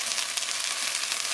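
Rice and mushrooms sizzle hard in a frying pan as Greek white wine hits them, giving a dense continuous hiss with no voices.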